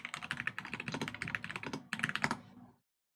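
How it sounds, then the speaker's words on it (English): Rapid typing on a computer keyboard, close and crisp, keys clacking in uneven bursts for nearly three seconds before stopping abruptly into silence. "Keyboard ASMR."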